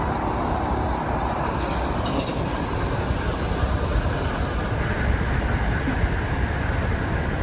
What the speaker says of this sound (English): So pretty noisy here because we are essentially on the motorway.